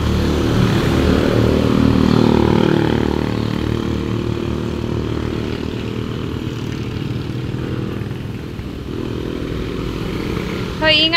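A motorcycle engine rumbles nearby, loud at first then settling into a steady idle-like drone, with people talking over it.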